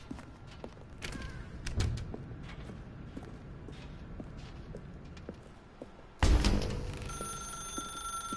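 A telephone in The Stanley Parable bursts into loud, sustained ringing with a bright metallic bell tone after a quieter stretch of soft footsteps and room ambience.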